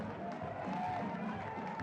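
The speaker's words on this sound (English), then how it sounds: "To the applause of the crowd." Football stadium crowd at a Guadeloupe vs Suriname Concacaf Nations League match, heard as a distant, steady wash of applause and crowd noise with no distinct individual claps.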